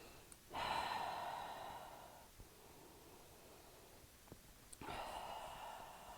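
Slow, deep breathing during a yoga flow, two long airy breaths close to the microphone with a quiet pause between them.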